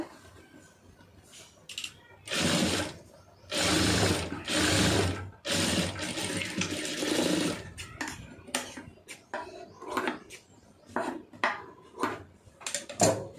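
Sewing machine stitching the side seam of a blouse, running in several loud mechanical bursts of rapid needle clatter, then shorter clicks and handling noises toward the end.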